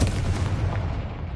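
A Confringo fire spell from Hogwarts Legacy goes off as a dense, roaring fiery blast with heavy low rumble, loud and sustained, with no talking.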